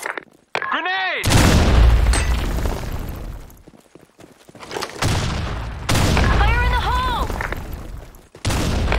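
Gunfire and a grenade blast in a video game: dense, loud broadband bursts of shots and booms fill most of the stretch, broken by brief shouted voices near the start and middle.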